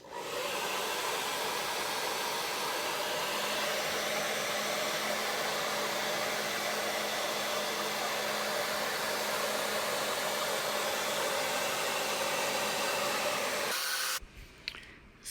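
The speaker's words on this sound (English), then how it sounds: "I just keep moving the diffuser around, cupping my hand to try and get the airflow" A hair dryer with a diffuser runs on high, giving a loud, steady whoosh with a faint tonal hum that holds unbroken for about fourteen seconds before it cuts off and a few soft handling noises follow.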